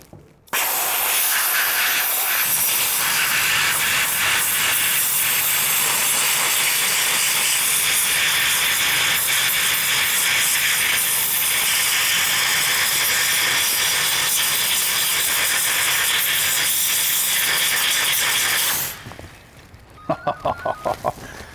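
A torch flame roars loud and steady for most of the span while burning carbon deposits out of a coked VW Golf intake manifold, then cuts off abruptly, leaving a few quiet clicks.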